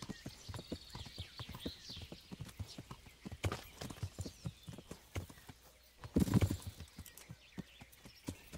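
Horse hooves in the Kingdom Come Deliverance video game: a steady run of close clip-clop strikes on the ground, with a louder cluster of hits near the end.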